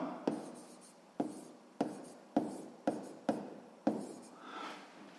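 A pen writes on paper in a sixth-grade math exercise, sounding as a series of about seven quick, close scratching strokes with short sharp onsets, each fading before the next, with a softer smeared scribble near the end.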